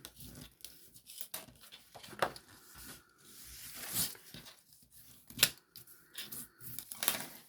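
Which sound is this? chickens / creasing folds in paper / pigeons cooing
creasing folds in paper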